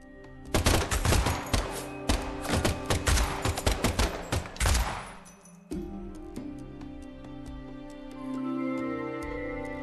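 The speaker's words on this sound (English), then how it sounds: "the last gunshot we heard sounded ominous, Zack." Rapid bursts of gunfire in the video game Deadly Premonition 2, loud volleys of shots for about five seconds, then a sustained musical, ringing ambience with no talking.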